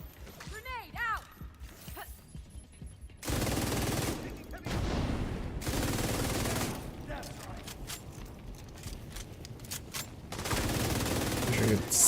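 Loud bursts of gunfire in The Division arrive in several separate stretches, each lasting a second or two, with someone talking between and over them.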